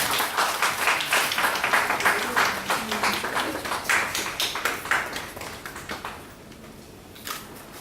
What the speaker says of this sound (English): we will expect a big round of applause if you are not clicking pictures